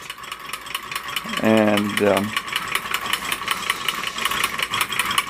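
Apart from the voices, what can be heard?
Reichelt twin cylinder hot air engine running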